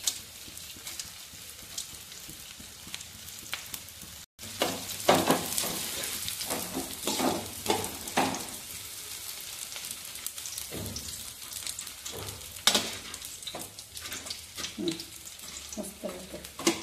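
Edible gum (antu) roasts in a pan for laddoos, crackling and popping as it puffs up, a busy frying patter with scattered sharp snaps and stirring scrapes after a brief break near the start.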